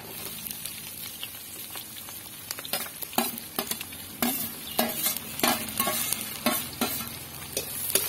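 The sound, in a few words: onion being stirred and sautéed in a pan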